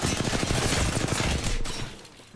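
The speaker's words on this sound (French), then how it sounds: "J'essuie des tirs." Rapid automatic gunfire during an Apex Legends match, a loud continuous burst of shots that fades out near the end.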